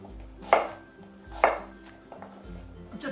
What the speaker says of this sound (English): I'm just dicing our sweet potato into roughly 1-inch chunks.